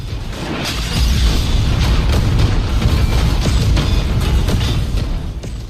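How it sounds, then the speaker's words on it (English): A damaged spacecraft explodes in an animated sci-fi series, a loud sustained rumbling boom with crackling bursts that swells after the first second and rolls on before easing off, with no voices. "Since the spacecraft was already damaged, Pan Shi managed to escape from his exploding spacecraft."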